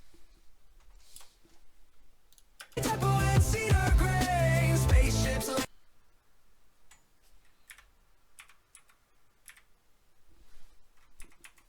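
Computer keyboard keys typed during gameplay, heard as faint, scattered clicks, with a loud burst of game music and sound in the middle.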